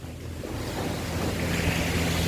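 Sea waves wash onto the beach at Bohol Sea Resort in Panglao, a steady broadband surf roar that swells slightly louder over about two seconds, mixed with wind buffeting the microphone and no talk.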